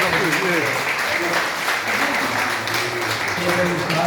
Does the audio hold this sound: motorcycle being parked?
no